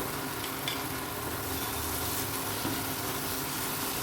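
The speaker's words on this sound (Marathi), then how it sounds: "व्यवस्थित मी मिक्स करून घेते आणि पळीने ना थोडं स्मॅश करून घेते" Tomatoes being stirred and mashed with a ladle in a pan for an Agri-Koli style tondli (ivy gourd) dish, a steady close sizzling and scraping wash with soft clinks, no talking.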